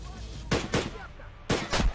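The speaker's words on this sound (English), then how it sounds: "Oh, gunfire to our right." Four sharp gunshots ring out in Escape from Tarkov, two quick pairs of cracks separated by a short pause, fairly close and loud with a faint background hum between them.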